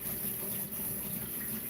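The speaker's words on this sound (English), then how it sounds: "We're going to rinse it with some cold water." Cold water runs from a kitchen tap over cooked pasta in a strainer, a steady close gushing stream that holds at an even level throughout with no voices.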